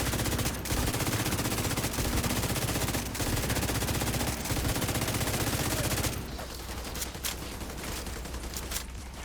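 Sustained rapid automatic gunfire in The Division 2, loud dense bursts for several seconds broken by brief gaps, then easing to quieter scattered shots and clicks.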